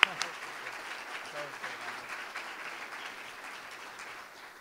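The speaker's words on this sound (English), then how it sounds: "give both of them a big round of applause for showing up" Audience applause at a 2015 school board candidate forum, a dense steady patter of many hands that starts at once and slowly fades over a few seconds, with no voices over it.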